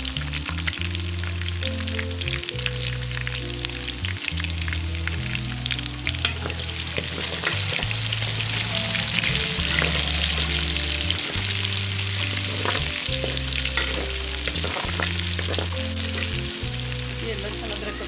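Chopped onions fry in hot oil for chicken biryani, giving a steady, close sizzle with occasional stirring scrapes over a continuous musical backing.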